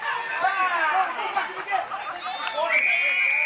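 A crowd of spectators cheering and shouting at an Australian rules football match, a lively babble of many voices with rising calls and whistles, sustained and moderately loud across the whole moment.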